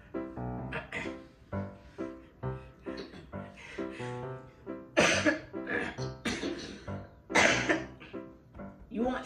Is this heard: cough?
yes